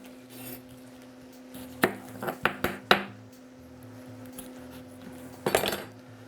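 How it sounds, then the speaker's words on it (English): A knife chopping an onion on a board for chili, a handful of sharp close taps in a quick cluster, then a pause and another short burst, over a low background hum. "You want to cook or chop that onion decently fine."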